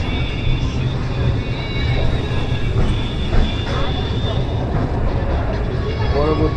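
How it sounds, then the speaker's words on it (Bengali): Shipra Express passenger train moving after leaving a station, a steady broadband rumble and clatter of wheels on rails inside the carriage, continuous and fairly loud throughout with faint background voices. "উজ্জয়ন থেকে আমাদের ট্রেন ছেড়ে দিয়েছে এখনই।"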